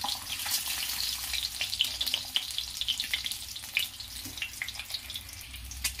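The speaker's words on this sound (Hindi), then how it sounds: "मैं तो थोड़ा डीप फ्राई करूंगी" Eggs deep fry in hot oil for an egg curry, a close bubbling sizzle with sharp crackling spits that rise and fall in intensity, quiet overall with no talking.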